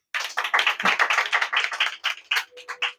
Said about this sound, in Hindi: बिना बोले ताली बजाओ